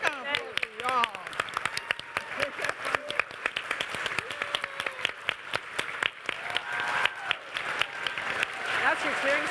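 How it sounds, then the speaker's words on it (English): Audience members at a union women's panel during a legislative political conference clap steadily in a room, with a few louder individual claps and cheers and voices chattering over the applause. "Oh, we got applause for y'all."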